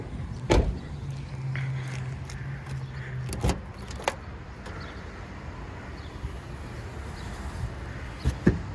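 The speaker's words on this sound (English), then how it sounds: "if you do it this way, your little window comes down" Power window motor on a 2016 Toyota 4Runner SR5 Premium whirring steadily for a few seconds as the glass rolls down, framed by soft clicks and clunks from the door and controls, no voices.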